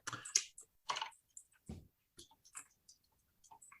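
Keyboard typing while taking notes during a tabletop role-playing session: scattered soft clicks and short bursts of keystrokes at moderate distance, quiet and uneven, with no talking.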